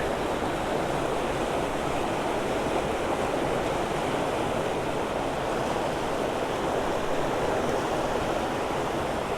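Fast water rushes through a flooded creek, a constant dense roar of churning flow with no breaks, close and loud, with no voices.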